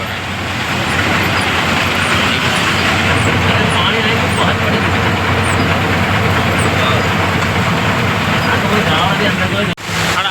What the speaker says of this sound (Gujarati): બ્રિજ ઉપર જામ લાગી ગયો